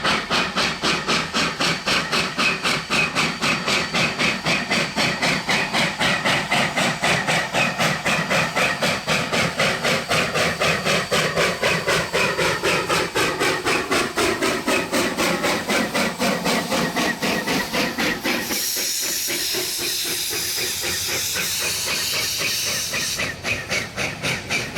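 A heritage steam train in New Zealand hauling five carriages and a tank wagon, its exhaust chuffing in a fast, steady rhythm with hissing steam, loud and continuous, shifting in tone near the end as it passes.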